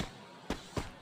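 Two sharp bomb blasts in a multiplayer team-match video game, the first near the middle and the second shortly after, each a brief loud burst over a quiet background.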